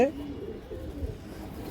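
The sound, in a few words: pigeons cooing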